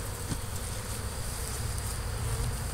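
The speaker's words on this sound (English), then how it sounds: "Bees are going for a ride." A dense, steady drone of many bees buzzing close by during removal of hives from an old house, continuous and humming with no voices.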